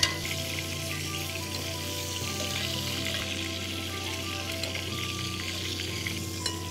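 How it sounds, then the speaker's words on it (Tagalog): Aromatics sautéing in a pan for tomato chicken rice, a loud continuous close-up sizzle with steady crackle throughout, no voices. "Then, gigisa na natin yung ating mga aromatics."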